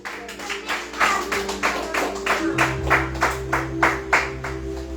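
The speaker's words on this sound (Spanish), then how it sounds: "Dele palmas a Cristo" A church congregation claps in a steady rhythmic beat, about a dozen sharp bursts, over a sustained low musical drone, with no spoken words.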